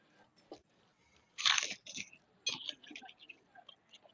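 A crunchy battered onion ring is bitten into up close, giving a loud crisp crunch followed by several smaller crackling chews, quiet otherwise.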